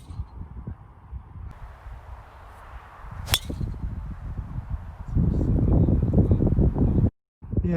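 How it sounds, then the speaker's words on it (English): Gusty wind buffets across an open golf course at Aldeburgh Golf Club, rumbling and swelling into a heavy roar near the end, with a sharp crack partway through. "Trying to shout at the mic from the wind."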